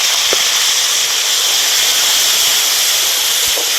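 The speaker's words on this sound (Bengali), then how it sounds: "আদাও ভেজে নিয়েছি, এবারে মশলার পেস্ট দিয়ে দেবো।" Spice paste sizzling loudly in a hot pan with fried ginger, a steady, dense hiss that stays constant throughout, close up and without speech.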